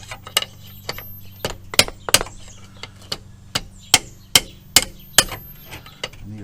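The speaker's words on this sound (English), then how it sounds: "I need a bigger hammer." Sharp metallic hammer strikes ring out on brake and wheel hub parts of a Chevy Impala, about a dozen blows in a steady rhythm with a low hum underneath, close and loud without speech.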